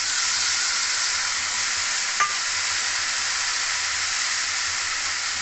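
Spice paste hits frying potatoes for a pumpkin chokka, setting off a loud, steady, close sizzle and hiss that holds throughout, with a faint clink partway.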